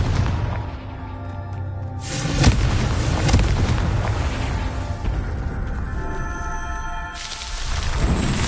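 A Confringo spell blast in Hogwarts Legacy lands as a sharp booming explosion, followed by rumbling crackle and layered magical combat effects, loud and close.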